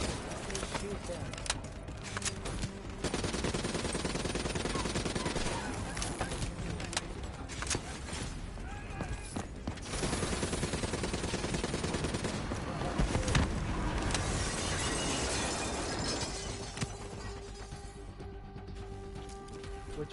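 Rapid bursts of automatic gunfire from Black Ops 3, dense and continuous, with game voices mixed in throughout.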